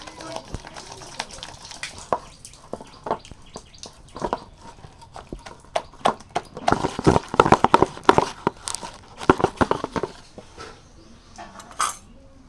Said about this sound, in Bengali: এবার বেসনটাকে ভালো করে ফেটিয়ে নিতে হবে